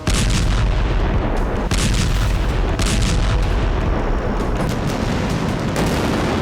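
A large bomb blast in Russia-Ukraine war footage gives a dense, continuous roar of deep rumbling booms that stays loud and unbroken throughout.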